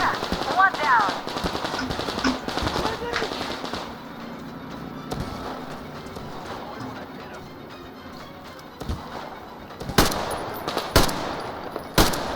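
Gunfire in the video game Metro Exodus: bursts of rapid shots at the start, a quieter stretch with scattered pops, then several loud sharp shots near the end, with faint talk in places.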